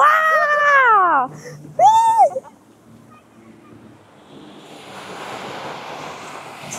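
Ocean waves wash onto a beach in peninsular Malaysia, a broad hiss of surf rising in the later half, while voices talk and exclaim near the start.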